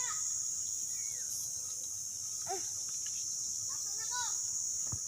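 Crickets chirp in a continuous high, shrill drone outdoors in a mango orchard where children hunt for them, with faint voices and bird calls beneath.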